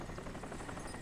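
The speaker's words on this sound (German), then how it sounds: "Gut, Heli verzieht sich wieder." Helicopter in the video game Crysis flying off, a steady broadband rotor and engine drone holding at a fairly even level throughout, with no talk over it.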